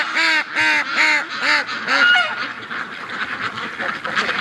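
A flock of Muscovy ducks calls in rapid repeated honking bursts, loud and close at first, then thinning into scattered fainter calls over a busy outdoor background.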